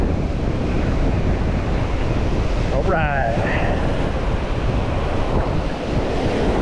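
Ocean surf rolls and washes up on a sandy beach during surf fishing, a steady loud roar of breaking waves with wind buffeting the microphone and a brief spoken remark.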